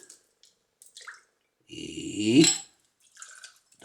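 Passion fruit juice, about two ounces, is poured for a home cocktail as a single liquid stream of roughly a second, rising in pitch as the vessel fills, with small clinks and drips around it.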